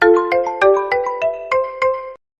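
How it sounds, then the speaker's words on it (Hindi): A mobile phone ringtone chimes close and clear in a home as a quick melodic run of about eight bright notes over roughly two seconds, then cuts off into silence. "अरे सुमित का फोन।"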